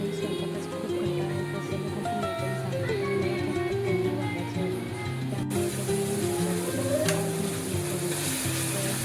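Chopped onion, tomato, coriander and basic spices tempering in hot oil give a continuous close sizzle, with steady tonal sounds running underneath and a brighter burst of frying partway through.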